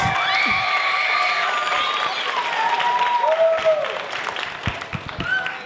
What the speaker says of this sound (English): We give a huge round of applause to Mr. Blackman.